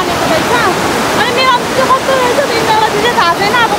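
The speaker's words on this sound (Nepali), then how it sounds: "पुरै चाहिँ इन्द्रावती खोला रहेछ" The Indrawati river, running clear, rushes loudly and continuously close by as a dense roar of flowing water, with voices faintly mixed in.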